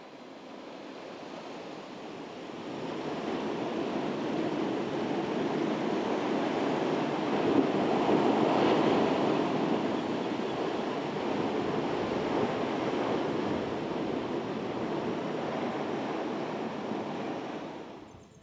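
Ocean surf rolls onto the shore at Police Bay in the Seychelles, a steady broad wash of breaking waves that swells in the middle and eases off, mixed with wind buffeting the microphone.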